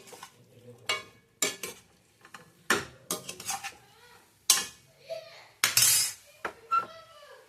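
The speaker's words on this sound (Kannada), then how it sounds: "ನಿಧಾನಕ್ಕೆ ಫ್ರೈ ಮಾಡ್ಕೊಳ್ಳಿ." A spatula scraping and clattering against a pan while leftover idli pieces coated in sauce and onions are stir-fried, the metallic strokes coming in irregular bursts over a soft sizzle.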